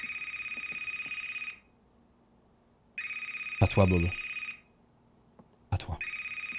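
A telephone rings in the horror video game Decarnation, with loud repeated electronic bell bursts separated by pauses, and someone talking briefly between the rings.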